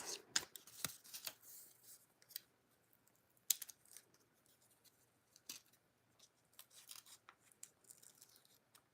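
Small scissors snipping at a desk, a few quick sharp cuts near the start and scattered faint snips and rustles afterward, fairly close but quiet, with no talking.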